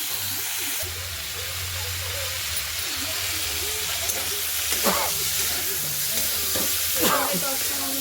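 Pangas fish fillets sizzling in hot oil in a pan, a steady close frying hiss with a low hum beneath and a few brief louder crackles and spits near the end, no talking.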